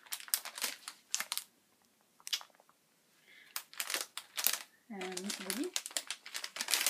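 A crinkly plastic package of shortbread cookie bites with chocolate centres being opened, bursts of sharp crackling and crinkling close up, interleaved with short spoken French remarks.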